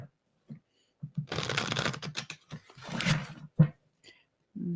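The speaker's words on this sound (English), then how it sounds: "Okay, one more shuffle." Close, quiet riffle shuffles of a card deck, a few rapid fluttering bursts separated by short pauses and light handling clicks.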